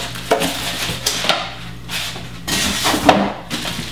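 A Crock Pot 7 quart slow cooker is set down on a hard surface, with several close, sharp knocks and clunks spread over a few seconds and no voices.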